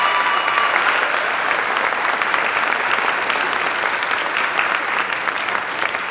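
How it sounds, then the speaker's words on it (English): Audience at a jazz festival breaks into sustained applause for the band, a dense, even roar of many hands clapping that holds steady and tapers slightly at the end. "Let's give them a round of applause."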